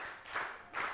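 Students in a Grade 6 science class clap together in a brief, quiet patter of applause, two soft swells of hand claps within a second, heard from a little distance.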